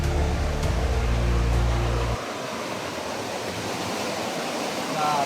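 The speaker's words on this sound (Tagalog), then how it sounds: "Lakas ng ragasan ng tubig, baka mahulog tayo dito." Strong rushing water swirling along a slippery path near a large rock, a loud steady roar of broadband noise that persists throughout, with a heavier low rumble in the first two seconds.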